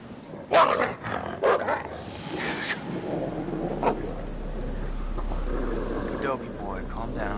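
Dog named Wolfie in the video game Until Dawn barking and growling in a few loud bursts early on, followed by a lower rumbling background; someone talks over parts of it.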